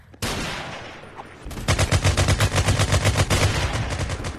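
Rapid automatic gunfire in a VR shooter game, a sharp crack followed by a short pause, then a sustained loud burst of evenly spaced shots close by, with no talking.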